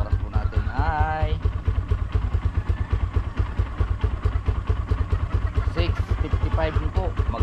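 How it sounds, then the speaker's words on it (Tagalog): Motorcycle engine idling steadily up close before riding off, a continuous low throbbing rumble with light mechanical clatter, and someone talking over it. "nakaanda na po yung ating motor at para papasok na po tayo"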